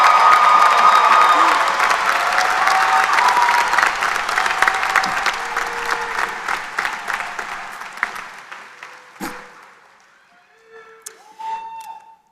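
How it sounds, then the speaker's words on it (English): Sustained applause from a large crowd at a Salisbury University fall 2024 commencement honoring graduates, loud and dense at first, then thinning and fading to scattered claps before a voice begins speaking. "How about one more round of applause for all of our phenomenal graduates?"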